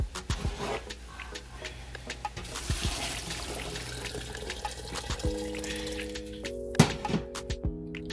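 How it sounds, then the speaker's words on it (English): Fish stock poured into a cooking pot for seafood chowder, a steady liquid splash over several seconds with a few clunks and thuds of the pot and utensils, close and moderately loud. "I'm going to pour in my fish stock"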